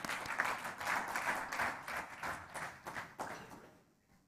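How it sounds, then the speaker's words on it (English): Audience applause at a live business conference, a steady wash of many clapping hands close and full for about three and a half seconds before thinning and fading out at the end. "A round of applause for both of them"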